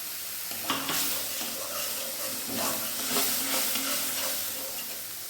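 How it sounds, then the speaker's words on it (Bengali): Spices get stirred with a little water in a pan, giving a close, continuous sizzling hiss with soft repeated spatula scrapes and a faint wet bubbling and no talk. "প্রথমে অল্প জল দিয়ে ভালো করে নাড়িয়ে নিতে হবে, যাতে কোনো প্রকার মশলা কোনো দলা না থাকে।"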